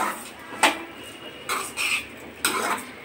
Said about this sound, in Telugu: అంతా కలిసేటట్టు ఒకసారి మొత్తం తిప్పుదామండి.